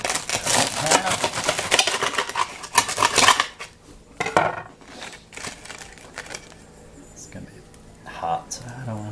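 Knife cutting through a toasted cheese sandwich on a plate, with clattering, scraping cutlery strokes loud and close for about three seconds, then quieter intermittent scrapes.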